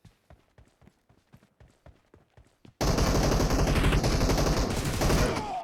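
In a shooting video game, about a dozen sharp single shots ring out one after another in quick rhythm. A loud, dense burst of sustained automatic fire then breaks out and keeps going.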